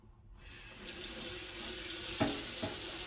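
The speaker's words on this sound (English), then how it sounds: "Let's give it a little rinse and see where I'm at right now." Tap water runs steadily into a sink, rinsing a sheet pan with baked-on residue, a constant rushing flow with a couple of brief clunks of the pan near the end.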